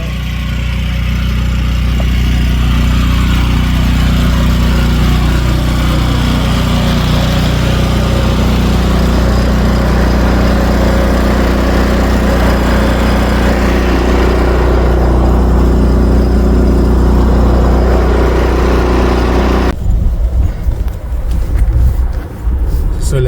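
A snow blower runs steadily during a snowstorm in Québec, its engine drone loud and close for about twenty seconds before cutting to quieter handling noise at the end.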